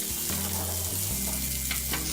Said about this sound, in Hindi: प्याज को भी हल्का सा भूनेंगे।